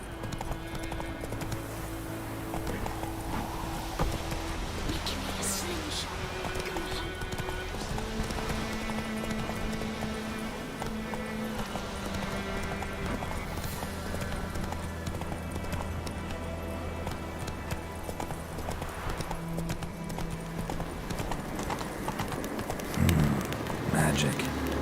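Horse hooves clip-clop at a steady galloping rhythm in The Witcher 3: Wild Hunt, running continuously under game music and a talking voice.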